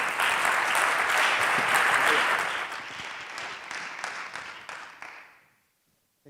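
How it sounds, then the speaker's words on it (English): A gala audience at an innovation challenge final applauds an Esade guest, a loud full wash of clapping that gradually thins and dies away to silence near the end. "please give a big applause to the Esade representative, to Iván Bufaruy, the Chief Innovation Officer of Esade."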